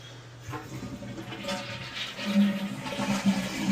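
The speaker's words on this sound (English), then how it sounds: "Flush toilet to drain tank completely." A toilet flushes nearby to drain its tank, water rushing and gurgling steadily into the bowl, growing slightly louder toward the end.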